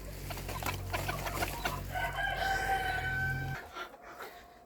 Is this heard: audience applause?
no